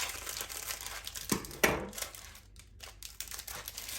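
A plastic Hot Pocket wrapper from a frozen pack of two is opened, giving close crinkling and a couple of sharp tearing snaps, quiet and alone with no talk.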